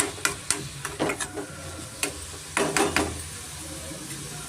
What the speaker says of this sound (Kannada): ಮ್ಯಾಶ್ ಆಗೋ ಥರ ಚೆನ್ನಾಗಿ ನಾವು ಫ್ರೈ ಮಾಡ್ಕೊಬೇಕಾಗತ್ತೆ